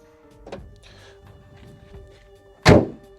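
A SEAT Arona FR's bonnet is lowered and shut, landing as one loud, solid thud near the end after a few quieter handling knocks.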